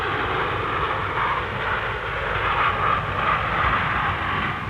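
Royal Navy Supermarine Scimitar jets of 800 Squadron fly formation aerobatics at the Farnborough airshow, giving a steady, broad roar of jet engines that swells slightly but stays continuous, with no voices.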